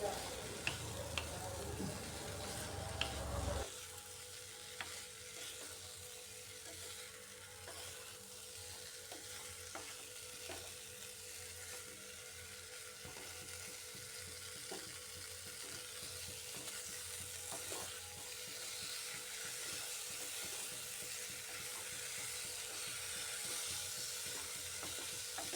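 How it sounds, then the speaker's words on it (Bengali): Cauliflower and potato sautéing with salt in a pan give off a steady, moderate sizzle. Soft scraping and stirring clicks run through it, and a brief louder burst of handling comes at the start. "লবণটা দিয়েও একটু ভালো করে কষাতে হবে ফুলকপি আলুটাকে।"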